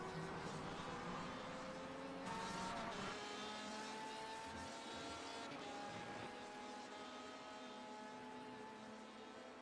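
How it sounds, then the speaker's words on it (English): A Ford GT race car engine in an iRacing video game drones continuously at high revs at Watkins Glen, its pitch rising and dipping through gear shifts, fairly quiet and steady. "Ford GT sounds so weird on this game."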